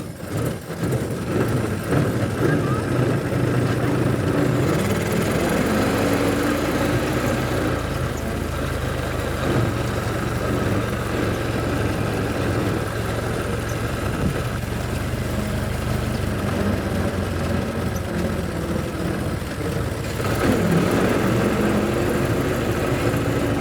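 A 100-year-old Ford Model T engine chugs steadily while the car is driven, a constant mid-low running drone with slight surges, close and continuous with no talking.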